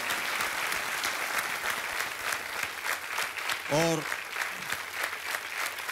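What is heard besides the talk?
studio audience applause on a TV quiz show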